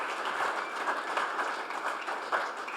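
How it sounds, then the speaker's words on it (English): A team meeting crowd gives Nick a round of applause, a dense patter of many hands with a few louder claps poking out, moderately near and steady throughout. "Round of applause for Nick."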